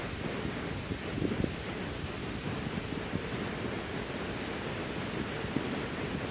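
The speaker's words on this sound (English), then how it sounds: "The wind's picking up." Steady outdoor wind roaring as a broad, even rush with no gusts standing out, continuous and fairly loud, no talk.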